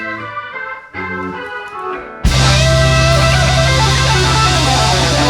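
A band plays live at a VIP brunch at Garcia's in Port Chester, NY, keys voicing a flat six over the one, then the full band crashing in loudly and holding a sustained ending chord.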